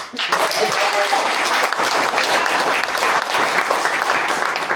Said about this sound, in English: If you want to clap, I'll join you in praise to my God.